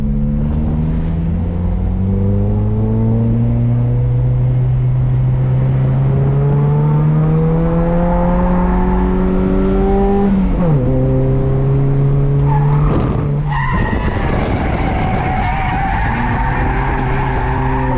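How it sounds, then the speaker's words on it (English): Race car on a very grippy track, engine climbing steadily through a sweeper corner with tires skidding and squealing, then a sharp gear change and renewed revving; loud and close, with no talk. "I'll be able to get it into 3rd gear if I get enough speed around this sweeper corner leading into it"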